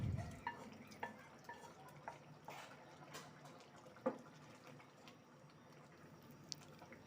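A spoon quietly stirs beef into partly cooked rice in a pot for Bangladeshi beef tehari, with soft scraping, faint bubbling and occasional light clinks against the pot, close and low in level.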